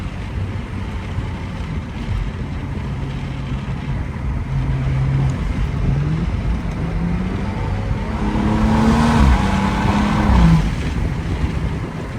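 A Stage 2 BMW 235i pulls along under throttle, its intake and engine note swelling and falling as it accelerates, with heavy road and wind roar throughout and a louder surge near the end.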